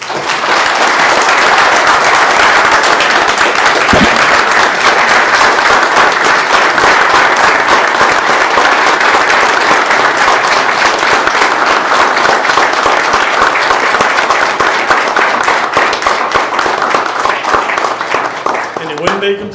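An audience at a Greer city council meeting gives a long, loud, steady round of applause to honor a retiring city employee, the clapping sustained at full strength and close throughout before easing slightly at the end.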